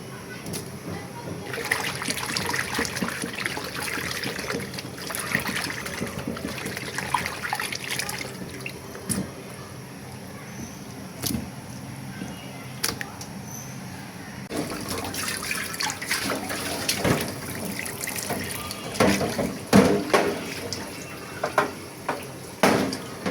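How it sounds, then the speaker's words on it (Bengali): Tap water running while liver is washed with hot water, an uneven stream splashing into a sink with intermittent clatters and louder bursts, heard close with people talking at times. "তো আমি আরও 3-4 বার ধুয়ে নেব আর কি গরম পানি দিয়ে"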